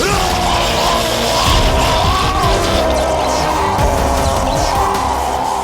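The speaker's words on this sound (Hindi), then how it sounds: "ये चीखें सुनाई दे रही हैं।" Loud, chaotic screaming and yelling from several people fills the whole stretch with crashing noises, dense and continuous in a dramatic scene.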